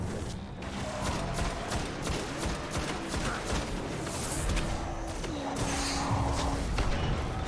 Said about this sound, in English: He's shooting right at me